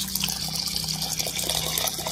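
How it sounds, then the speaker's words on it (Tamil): Water pours steadily onto washed rice in a kitchen, a continuous near splash and trickle of liquid filling the vessel, with no talking. "இப்போ தண்ணி ஆட் பண்ணிக்கலாம்."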